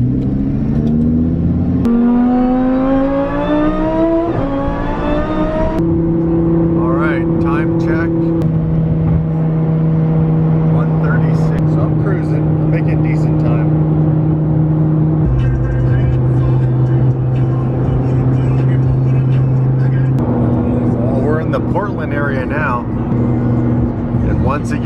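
A Lamborghini engine revs and accelerates through a series of rising gear pulls, loud and close throughout, with people talking over it.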